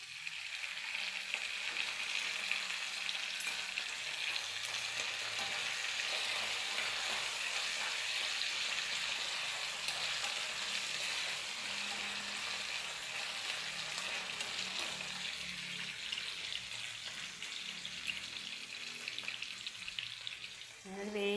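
Curry leaves frying with garlic in oil for a mango pickle, a long, even, crackling sizzle held close and steady, with faint clinks of stirring near the end.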